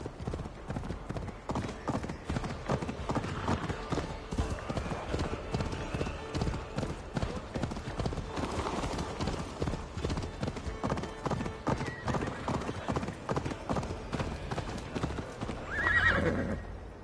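Rapid, rhythmic hoofbeats pound steadily at a galloping pace in the video game Assassin's Creed Valhalla, with a horse's whinny near the end and voices talking over it at times.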